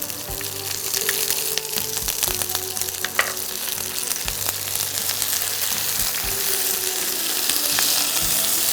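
Spiced Bengali chicken with turnip frying in a pan, a loud, steady sizzle and crackle that continues evenly throughout with occasional stirring, and no voices.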